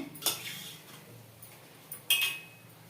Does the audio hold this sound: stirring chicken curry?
yes